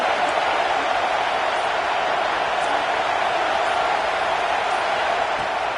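A stadium crowd at a football game, a steady broad roar of many voices holding an even loud level throughout with no distinct cheers or claps standing out.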